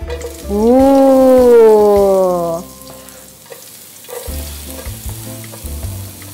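Chopped onion hitting a hot pan for a stir-fried beef and baby green bean dish: a loud burst of sizzling, with a tonal squeal in the first seconds, settling into quieter frying with stirring clatter.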